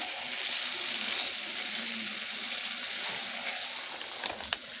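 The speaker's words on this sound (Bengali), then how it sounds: "চিকেনটা দিয়ে ভালো করে কষিয়ে নিতে হবে। আঁচটাকে লো ফ্লেমে দিয়ে" Desi chicken sautéed in oil over a low flame, a steady dense sizzle and crackle with occasional stirring clicks, close and continuous.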